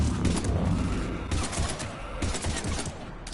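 Sustained, heavy gunfire at Husks in a Mass Effect cutscene, with Shepard and Lieutenant Vega fighting near the Normandy: loud, continuous rattling shots filling the scene with barely a pause.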